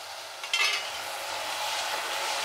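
Spices stirred and fried in a pan with a little water for a spicy cauliflower gobi musallam gravy, a steady close hiss with a brief louder scrape of stirring near the start.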